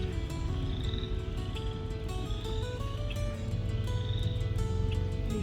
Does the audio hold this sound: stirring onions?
no